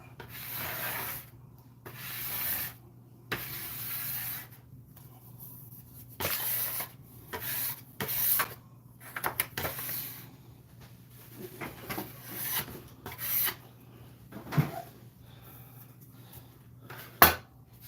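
A small scraper scrapes leftover sausage-roll dough off a kitchen work surface in a series of short, dry rubbing strokes with irregular pauses, fairly close and with no talking.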